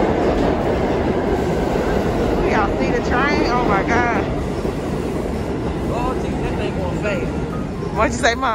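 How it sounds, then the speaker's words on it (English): A New York City subway A train ride, with a steady loud rumble of rail noise throughout and occasional high squeals or tones from the car, while people talk over it. "We're on the subway. This is Subway A."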